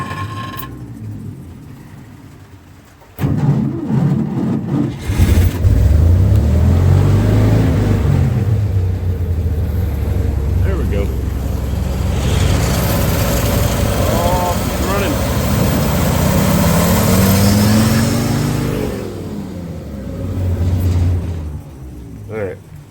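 A 1962 Dodge M37 truck engine, run after sitting 45 years, starts up and idles with a loud, uneven low rumble, then sputters and dies away near the end as it runs out of fuel.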